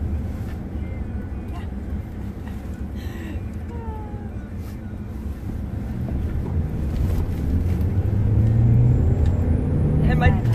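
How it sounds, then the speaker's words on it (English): A car drives fast on New Year's Eve, giving a steady loud roar of road and engine noise with heavy wind buffeting on the microphone that swells toward the end, with no talking. "my dad's driving fast."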